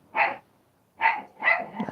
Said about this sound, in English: Abby, what is he barking at?